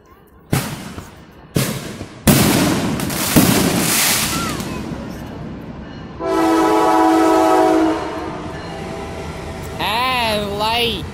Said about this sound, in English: I wonder if they'll be able to see the train.